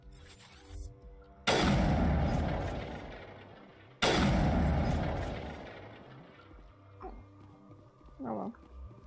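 Two heavy booms from the Mako vehicle in Mass Effect Legendary Edition, each a sudden loud blast that rolls off slowly over a couple of seconds, followed by faint game sounds.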